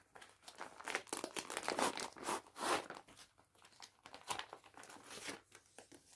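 A crinkly plastic package holding an AliExpress cross-stitch kit is handled and torn open up close, giving a run of dense rustling, crackling crinkles that swell and fade in irregular bursts with no talking.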